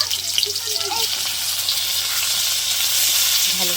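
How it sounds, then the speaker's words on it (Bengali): Onions frying in hot oil in a kadai, giving a steady close sizzle with a hissing, watery texture and light stirring noises over its short span. "ভালো করে পেঁয়াজটা ভাজা ভাজা করে নেব।"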